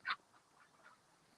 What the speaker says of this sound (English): He's a bit like a runner duck, but he's huge